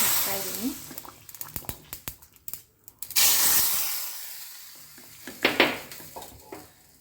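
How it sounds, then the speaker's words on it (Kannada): Tempering spices for a wedding-style sambar, with sharp spattering crackles and hissing bursts from hot oil, loud and close, under a voice. "ಒಗ್ಗರಣೆ"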